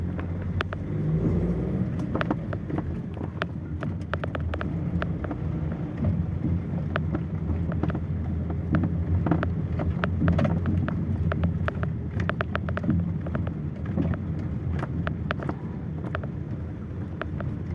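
A SHIFENG SF 244 C small tractor drives onto a better road, its engine a steady low rumble with rattling and wind buffeting on the microphone, loud and continuous with no talking.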